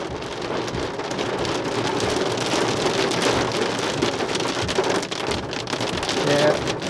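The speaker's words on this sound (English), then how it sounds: "Yeah, sounds like hail." Small hail mixed with heavy raindrops pelts down steadily in a storm at Whyalla, a dense, continuous hiss and patter with no letup, and a voice briefly speaks over it.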